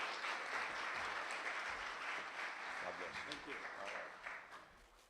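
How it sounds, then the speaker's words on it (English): Applause from a church audience as a guest speaker comes up, steady moderate clapping that slowly fades toward the end, with some speech-like murmur underneath. "Let's give a round of applause to Neil as he comes up."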